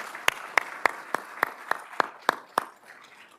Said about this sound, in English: let's give Shawnette a big round of applause